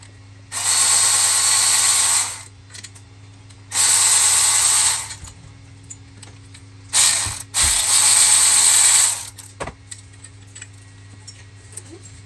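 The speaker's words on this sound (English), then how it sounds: "Now let's go ahead and completely remove it, those bolts." Ratchet clicking steadily as bolts are backed out of the AC compressor on a 2007-2012 Acura RDX, in four loud runs of rapid ticking over a low steady hum, with brief gaps between strokes.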